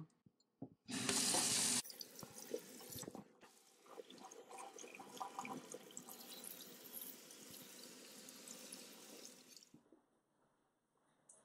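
Tap water runs steadily for about nine seconds while hair is rinsed during an at-home highlights treatment, beginning with a brief loud gush and then settling into a close, splashing flow before stopping.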